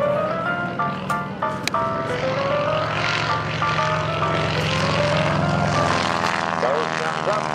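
A PT-17 Stearman biplane's radial engine drones loudly through an inverted pass at an airshow, its pitch sliding and wavering as the plane maneuvers, with an announcer talking over it.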